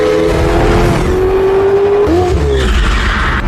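A 3.9 liter car of over 700 horsepower drives hard with a loud engine roar and squealing tires, up close and continuous.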